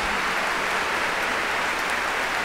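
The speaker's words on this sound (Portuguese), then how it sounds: "bata palmas" An audience at a Catholic charismatic prayer program claps hands together in a steady, even wash of sound, continuous and moderately loud throughout with no voice on top.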